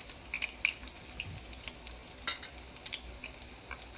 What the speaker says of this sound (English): Hope you enjoy the frying of onions today for the ASMR.